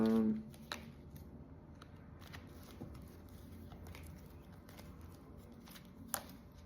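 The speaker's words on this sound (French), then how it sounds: "je vais rajouter des cartes pour en savoir un petit peu plus" Tarot cards being shuffled and laid out, a soft initial rustle followed by light scattered flicks and taps, close and quiet, with no talking.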